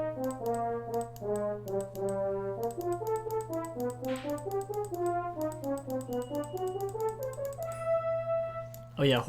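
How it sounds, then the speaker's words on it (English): Software French horn voice plays a stepping melodic line of short and held notes over a steady low drone, sounding like a small tuba, with light ticking percussion and quiet background talk. "Sounds like a tuba, but if you made it smaller."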